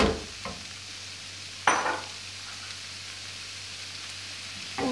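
Minced kofta meat stirred in a frying pan for a savory pastry filling, with soft scraping and brief sizzling bursts over a quiet steady background hum, no talking.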